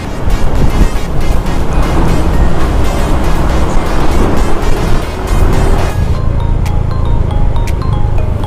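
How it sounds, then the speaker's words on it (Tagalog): Strong sea waves crash and surge in a loud, continuous roar that stays steady throughout, with the rush of water close by. "Ang lakas ng alon"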